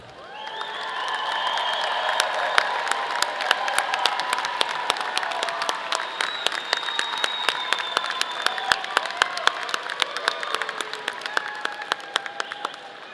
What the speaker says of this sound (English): Will the graduates please stand and give your family and friends a big round of applause?